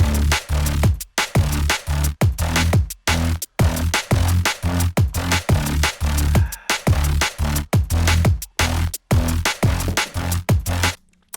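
A neurofunk bass stab built with granular synthesis repeats in loud, tightly chopped bursts with brief gaps between them, growling and heavy in the low end, playing alone for about eleven seconds.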